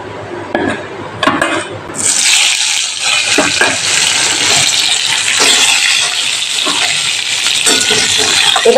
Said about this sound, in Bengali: এবার এই পটলগুলোকে আমি তেলের মধ্যে ভেজে নিচ্ছি।